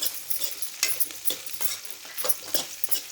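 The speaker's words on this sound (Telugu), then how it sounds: "మంచిగా ఫ్రై అవుతుంది." Mixed vegetables frying for a spicy veg fry, a soft sizzle broken by rhythmic scraping strokes of a spoon stirring the pan, close and alone.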